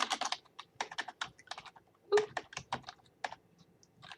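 Rapid typing on a computer keyboard, a dense run of close, crisp key clicks in uneven bursts with brief pauses, one slightly heavier keystroke midway, no voices.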